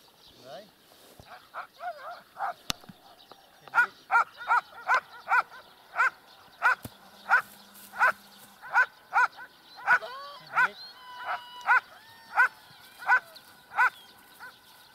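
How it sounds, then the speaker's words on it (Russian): Dogs bark outdoors during a morning training session, with a regular series of sharp, moderately distant barks spaced about every second, alongside some whining and other animal sounds. "Бедная собака."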